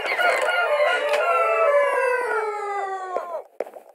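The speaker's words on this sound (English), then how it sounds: "There are a lot of chickens over there, which make a lot of noise." Minecraft chickens clucking and crowing in a survival game at night, a dense overlapping chorus of drawn-out tonal calls that holds steady for about three seconds before breaking off into a few short scattered clucks.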